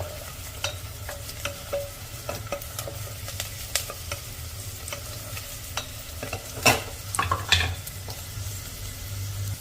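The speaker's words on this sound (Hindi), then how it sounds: "अब गैस का फ्लेम हाई कर देते हैं और इसे चलाते हुए भून लेते हैं" Chopped onions sizzling in a pan over a high gas flame while a spoon stirs them, with steady close frying hiss and scattered sharp scrapes and clinks of the spoon against the pan.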